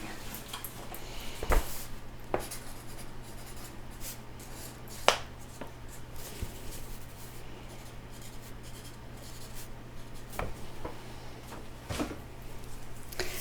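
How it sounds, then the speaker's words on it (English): Pen scratching notes onto paper at a tailor's fitting, a soft continuous close scratch with scattered sharp clicks and taps over a quiet background hum, no talking. "let me just write those down really quickly here"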